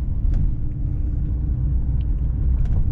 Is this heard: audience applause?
no